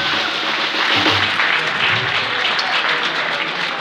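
A live audience applauds a band's trombone player at a show, loud, close and steady clapping lasting about four seconds, with a brief low thump under it.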